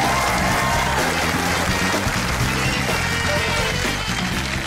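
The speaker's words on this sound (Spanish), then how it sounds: "el aplauso para él." Studio audience at a Saturday television variety show applauding loudly and continuously throughout, dense clapping over a pulsing music bed.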